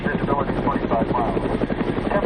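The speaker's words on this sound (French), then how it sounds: "dans un hélicoptère de la Croix-Rouge" Red Cross helicopter in flight over Afghanistan near the Iranian border, a loud continuous rotor thump with a steady rapid chopping rhythm and engine drone filling the whole stretch.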